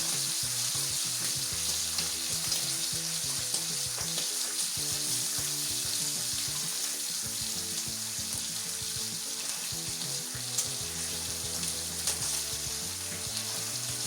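Bacon and mushrooms frying in a pan give a loud, steady crackling sizzle that stays even throughout, with faint clinks now and then.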